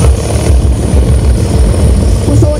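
A Malaysian Navy helicopter flies low during a helocasting insertion demonstration, producing a loud, continuous rotor thump and engine roar with no speech.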